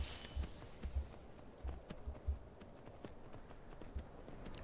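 Horse hooves clip-clop in Skyrim Special Edition, a faint, steady walking rhythm of soft hoofbeats over quiet ambient game sound.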